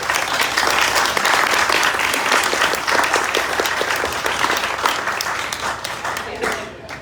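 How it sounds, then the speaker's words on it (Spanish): Audience applause at a Spanish-language book presentation for a novel, a loud continuous burst of many hands clapping close by that holds steady and tapers slightly near the end. "Un aplauso, por favor."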